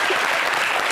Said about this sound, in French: Applaudissez pour Yébié.